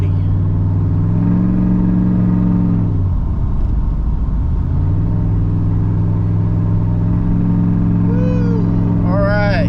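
A Camaro Z28 with a custom 700R4 transmission and high-stall torque converter drones loudly while driving, its engine revving high, dipping briefly and climbing again, with a voice chiming in at the end.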